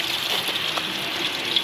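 Water gushes out onto a snowy small-town Russian street, a steady close rushing hiss with no talking.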